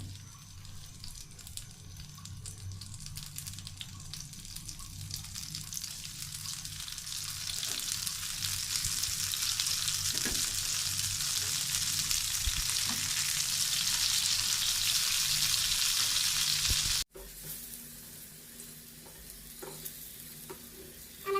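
Spiced eggplant pieces lightly frying in a pan for a curry, giving a steady, close sizzle that swells gradually, cuts out sharply for a moment, then resumes more quietly with a few soft clinks.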